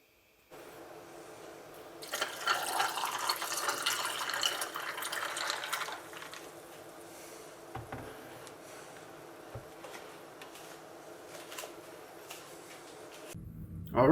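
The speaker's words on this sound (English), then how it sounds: "get a glass full of ice and pour your tea." Iced tea pours into a glass packed with ice, a steady splashing, trickling stream for several seconds at close range, followed by quieter clinks and settling.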